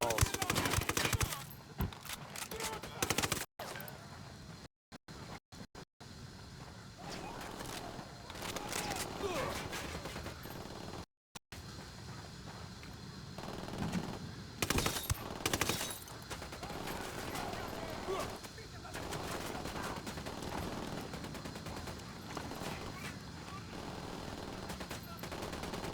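Rapid bursts of automatic gunfire and single shots in the tactical shooter Ghost Recon Wildlands, loud and dense throughout, with in-game voices talking over the firefight.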